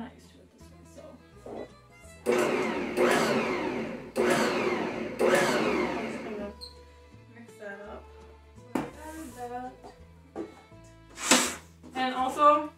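Bosch Universal mixer stirring wheat bread dough in short motor bursts of a few seconds each, a whirring drone that starts and stops, with a person talking in the pauses between runs.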